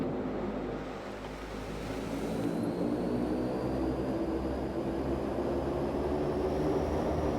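Dash 8 Q400 turboprop spooling up to takeoff power in a flight simulator game, a steady broadband engine roar with a rising whine, sustained and loud throughout with no talk.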